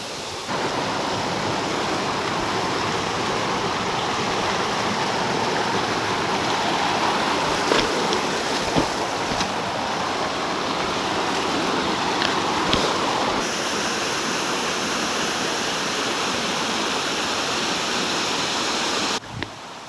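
Steady broadband roar of a waterfall rushing close by in the Te Urewera bush, a dense unbroken wash of falling water that holds level throughout with no voices.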